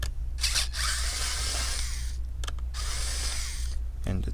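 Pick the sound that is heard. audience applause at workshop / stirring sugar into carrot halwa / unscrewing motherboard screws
unscrewing motherboard screws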